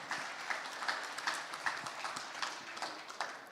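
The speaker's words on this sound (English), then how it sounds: "Ladies and gentlemen, please give a round of applause to Sally and Joe." Faint, sparse clapping from an audience at an African startup ecosystem summit and awards event, a few distant, irregular claps spread over a short stretch.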